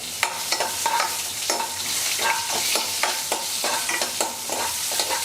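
Onions sizzle in hot oil with mustard seeds, curry leaves, cumin and garlic for sambar, a steady close frying hiss broken by frequent sharp scrapes and clicks of stirring, with no talking.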